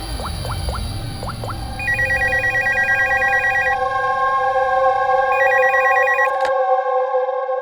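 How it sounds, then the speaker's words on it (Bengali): An outgoing phone call rings, with steady electronic ringback tones repeating in bursts over a low background hum, clear and close, with no talking. "স্যার, স্টোর ম্যানেজারকে ফোন করছি।"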